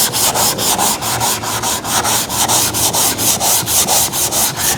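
Block sanding of primer on a car body panel, loud close rhythmic rubbing strokes repeating steadily back and forth without pause and with no talk.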